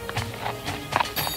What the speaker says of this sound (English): D'Artagnan courageously stepped forward on his horse Tito.